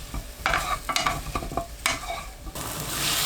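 Radish pieces stir-fried in perilla oil with chili powder over medium-low heat in a pan, giving a steady sizzle broken by several scraping stirs and clatters, close and fairly loud with no talking.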